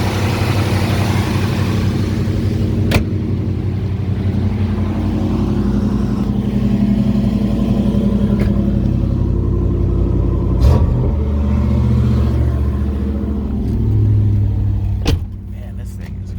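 A 1992 Chevrolet 454 SS pickup truck drives with a steady, close engine rumble and road drone throughout, shifting in pitch as it goes, with a few sharp knocks and faint voices now and then.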